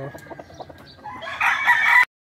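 A bulik gamefowl rooster clucks in short bursts, then lets out a loud close crow that cuts off abruptly, with faint background chatter beneath.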